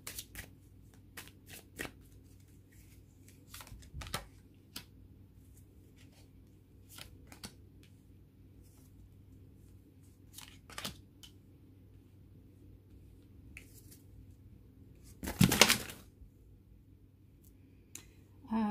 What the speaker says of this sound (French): Je m'excuse, les cartes sont tombées.